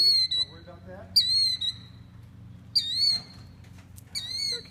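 A killdeer guarding her eggs gives loud, shrill piping calls in four separate bursts, with a low hum running underneath throughout.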